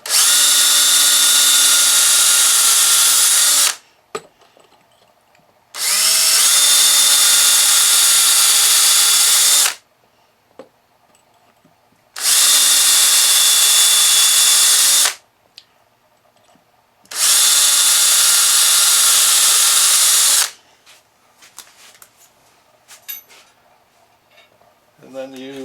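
Power drill boring holes into a wood log bowl blank in four loud, sustained bursts of several seconds each, separated by short quiet pauses with light handling noise.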